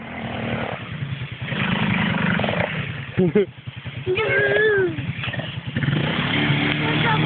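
A quad bike stuck in a rut revs its engine in a loud, pulsing, strained drone that rises and dips repeatedly, while people shout and talk over it close by.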